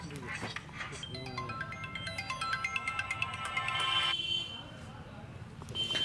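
A mobile phone ringtone plays as a melodic electronic tune with rising stepped notes, moderately loud over background room noise and a little talk.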